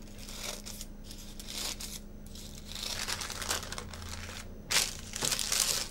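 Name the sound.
crumpling and cutting baking paper to fit a tin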